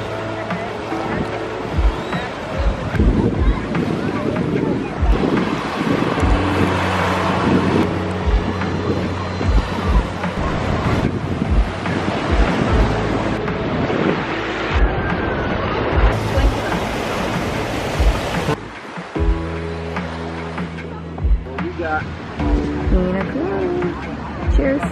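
Ocean waves and wind at the lagoon of Waikiki Beach in Hawaii, a steady broadband wash of surf and gusting wind that stays loud and continuous, with people talking underneath.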